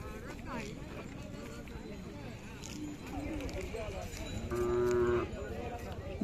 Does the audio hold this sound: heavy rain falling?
no